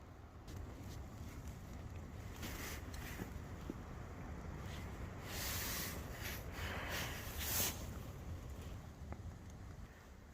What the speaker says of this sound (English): right now my tent is being blown by the wind still